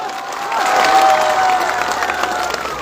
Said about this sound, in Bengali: এর জন্য একটা জোরে হাততালি